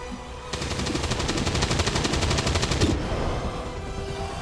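A sustained burst of rapid automatic gunfire in the XCOM video game lasts about two and a half seconds as a dense, loud, evenly spaced rattle over a rumbling battle background, then cuts off abruptly.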